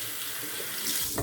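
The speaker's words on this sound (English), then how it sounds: "I'm going to put a little bit more warm water in this Mount Fuji mug" Warm water runs from a tap into a ceramic shaving mug, a steady close stream that brightens slightly toward the end as the mug fills.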